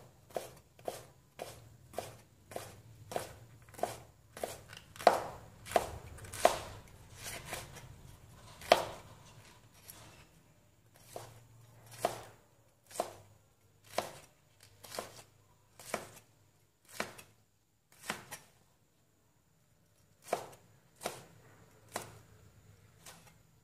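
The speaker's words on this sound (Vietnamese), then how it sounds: "Nấm mèo mình sẽ thái sợi nhé." A knife chops wood ear mushrooms into thin strips on a cutting board, with about twenty crisp, evenly spaced cuts in a steady rhythm, close and clear, with short pauses between runs of cuts.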